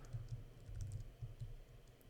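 A passphrase typed on a computer keyboard, quick soft key taps in a short uneven run, close but quiet, with no voices.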